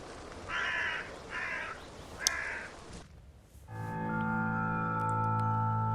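Three loud, harsh caws from a crow in the video game The Last Door: Collector's Edition, in steady succession over a background hum, followed by a sustained droning tone.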